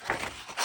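Scissors cut quickly through paper stock while an envelope is being made, giving short dry rasping snips in a quick uneven rhythm, close and fairly quiet, with no talking.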